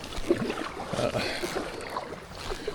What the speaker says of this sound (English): So, paddling pretty well so far.